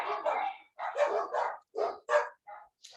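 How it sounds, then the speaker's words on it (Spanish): Several sharp dog barks in quick bursts, close and fairly loud, with short pauses between them and no talking. "No sé si escucharon a mis perros que están ladrando."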